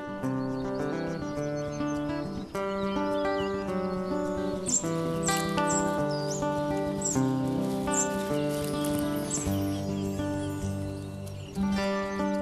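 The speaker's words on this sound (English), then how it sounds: "A domestic cat hears the ravenous cries of the young spotted flycatchers." Young spotted flycatchers crying, repeated high chirps and thin calls over a layered background of music, the begging notes clustered in a rapid series near the middle.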